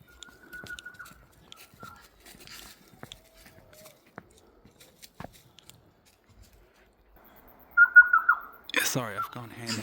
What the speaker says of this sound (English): get a look at this bird up here. It's called a tui